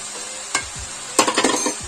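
Basmati rice gently stirred into softened cooked vegetables in a pot, a soft low hiss with one spoon scrape followed by a short cluster of close scraping taps.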